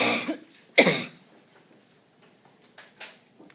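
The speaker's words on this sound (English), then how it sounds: "Excuse my coughing." Indoors during an algebra class, one person coughs twice, a short sharp cough then a stronger one, followed by quiet with faint small knocks.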